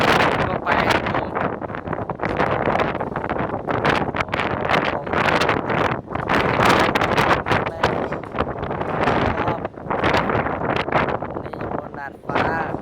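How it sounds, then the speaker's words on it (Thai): Typhoon Maysak's violent wind roars across a rooftop, buffeting the microphone in loud, continuous gusts that barely ease over several seconds. "แรงลมแรงมากเลยครับน่ากลัวด้วย"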